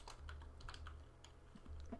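Quick, light keystrokes on a computer keyboard, heard close and faint in an irregular run of about a dozen clicks over two seconds with no talking.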